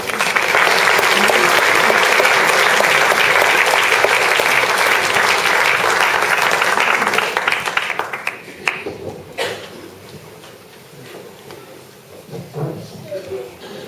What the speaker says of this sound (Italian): Vi preghiamo gentilmente di applaudire solo al termine dell'esecuzione.